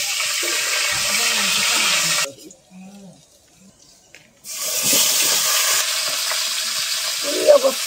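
Cauliflower and potatoes go into a hot frying pan and are stirred, giving a loud sizzle and scraping that drops to near quiet midway before the frying resumes, with a faint voice in the background.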